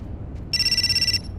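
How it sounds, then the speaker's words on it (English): A telephone in the video game Indigo Prophecy rings once with a bright, fast electronic trill lasting under a second, clear and close over a quiet low background. "let me get this phone. Stay ringing."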